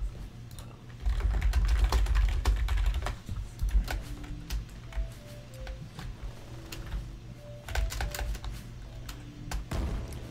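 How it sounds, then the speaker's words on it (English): Fast typing on a computer keyboard, close and fairly quiet, with bursts of rapid key clicks separated by brief pauses. "I was typing."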